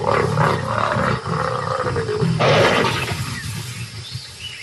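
Lions roar and snarl loudly while mating, a series of harsh, rumbling growls and a rising roar, close and intense with no talk over them.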